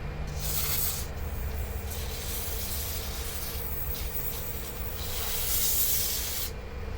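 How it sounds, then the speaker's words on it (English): Compressed air blasts carb cleaner off a part of a Troy-Bilt lawn mower carburetor, a steady close hiss running almost unbroken for several seconds with a brief pause near the end, no talking. "Blowing it off so there's no carb cleaner that goes in with it into that rubber seal."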